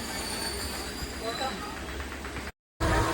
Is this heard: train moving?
yes